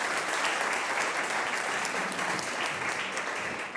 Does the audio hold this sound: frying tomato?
no